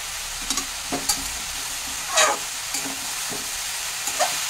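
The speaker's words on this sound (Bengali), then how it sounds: "এটাকে একটু ভালো করে নেড়ে চেড়ে নিচ্ছি" Spoon stirring bottle gourd with fish head in a hot pan, with a low sizzle underneath and several distinct scraping and clinking strokes spaced irregularly, close by with no talking.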